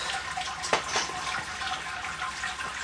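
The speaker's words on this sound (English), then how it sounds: "Now I have to put the sparge water through the top of this. You can hear it. It's draining down into the bottom from here." Sparge water pours through a bed of grains while home-brewing beer, trickling and draining steadily into a vessel below at close range, with a few soft clunks.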